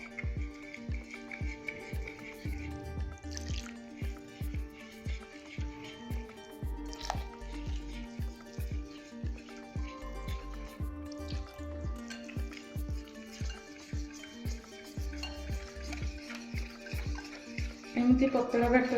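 Flour (maida) batter with salt is mixed by hand as water is added a little at a time, giving a rhythmic run of soft wet squelches and drips, close and steady, with a voice talking briefly.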